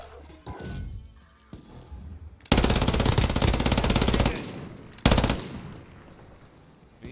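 Loud automatic gunfire from the Call of Duty Modern Warfare video game comes in dense bursts, a long sustained volley and then a shorter sharp one, with quieter stretches of game noise between them.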